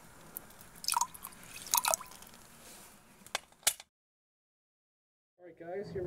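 Very cold Bacardi 151 rum at -40F is poured, giving soft drips, splashes and sticky liquid sounds over faint background noise, then a pause of silence before a voice begins speaking.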